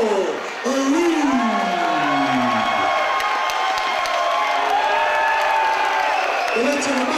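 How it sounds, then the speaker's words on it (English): Crowd at a fight event cheering and clapping for the winner after a referee stoppage, a loud, sustained wash of whoops and applause with voices rising over it. "let's have a massive round of applause for a fantastic winner"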